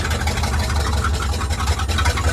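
A Ford F600 truck engine, running with no accelerator pump, idles steadily with a deep, close, continuous low rumble and an even pulse throughout.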